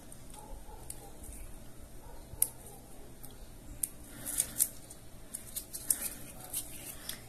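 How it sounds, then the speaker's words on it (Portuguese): Scissors snip through nail art ribbon held down with gel on a fingernail: a few small, crisp clicks near the mic over a quiet background hiss. "E agora eu vou cortar, vou chegar aqui, ó, e vou cortar."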